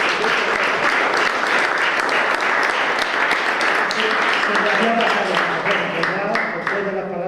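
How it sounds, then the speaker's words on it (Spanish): Audience at an art exhibition opening applauds, a loud, dense and continuous stretch of clapping with some voices underneath, easing slightly toward the end. "Un aplauso también para..."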